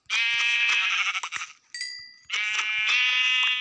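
Bleating of a goat caught outdoors among trees, loud and close, two long wavering calls separated by a brief pause, with no talk over them.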